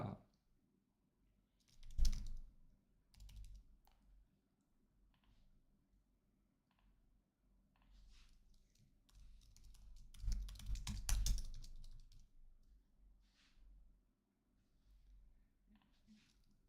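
Clicky bursts of typing on a computer keyboard while logging into a password manager, scattered keystroke clusters with pauses between, close and fairly faint in a quiet room.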